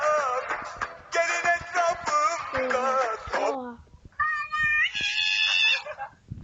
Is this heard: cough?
no